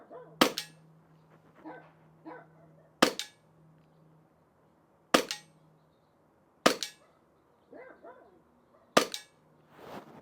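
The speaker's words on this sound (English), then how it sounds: "We're gonna put maybe about 5 shots into this just to see a good grouping size." Five sharp pops from an Elite Force Glock 19 Gen 5 MOS airsoft pistol fired at a target come at roughly two-second intervals, close and crisp, with quiet shuffling and faint background noise between shots.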